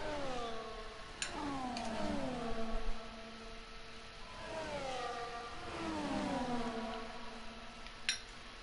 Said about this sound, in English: Car's being quite loud today.